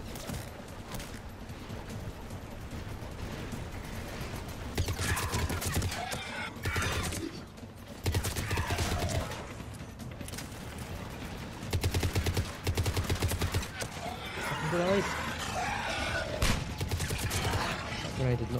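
Bursts of gunfire in the shooter game Mass Effect 3 come in loud volleys, separated by quieter gaps, with in-game voices talking between and over the shots.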